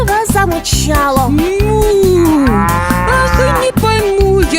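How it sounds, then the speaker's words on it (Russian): A cartoon cow moos in a long, loud, drawn-out call over bouncy children's music, the low voiced tone rising and falling in a song-like way. "Корова замычала."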